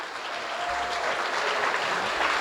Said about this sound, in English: A big round of applause, please, to Kevin.